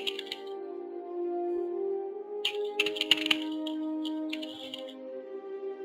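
Quick bursts of clicky keystrokes on a computer keyboard, in short clusters near the start, middle and end, over a steady sustained game music drone with no talking.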